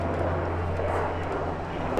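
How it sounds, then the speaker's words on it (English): A helicopter passes overhead as a steady, loud low rumble that fills the whole short stretch without fading. "There's a helicopter going through."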